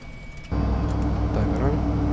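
Engine one of a Fokker 100 jet airliner spools up during a cockpit start sequence: after half a second of quiet cabin hum, a loud, steady roar sets in abruptly and holds without a break.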